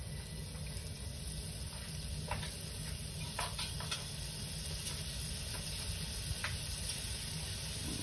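Butter melting in a hot pan while preparing sea scallops with linguine, a soft continuous sizzle with faint crackles under a steady low background hum, no talk.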